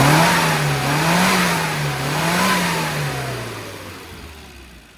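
Classic Mini engine on a road test drive after tuning and new hybrid dampers, revving up smoothly under acceleration with a rising and falling pitch, loud and close with no talk.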